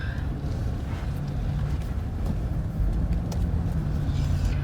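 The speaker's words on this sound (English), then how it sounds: "I'm going to move out of the way of this car because we are actually at the gas station." A car idles and moves nearby at a gas station during a road trip, giving a steady low engine rumble with faint clicks and bumps around it and no talk.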